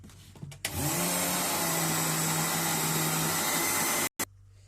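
A blender grinds sesame into tahini with a loud, steady whirring drone that starts abruptly, holds for about three seconds and cuts off, with a brief restart blip at the end.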